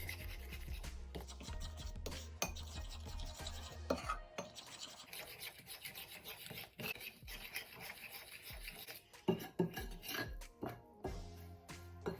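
Batter for KFC-style crispy fried chicken coating being mixed in a bowl, a close, quiet scraping and rubbing with a few clinks of the utensil against the bowl, no voices.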